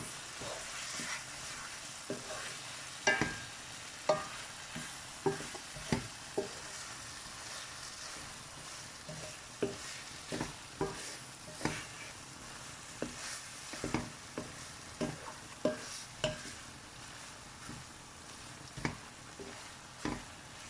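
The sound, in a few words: stirring chilli paneer with soy sauce in a pan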